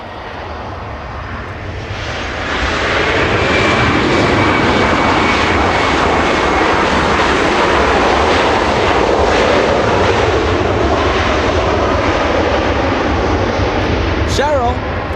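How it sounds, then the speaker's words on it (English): A Delta Airbus A319 airliner arriving at Los Angeles International Airport at night from Portland, Oregon, its loud, steady engine roar swelling and holding close for many seconds while a voice talks over it. "Delta 1471, this one flying in from Portland, Oregon. This one, an Airbus A319,"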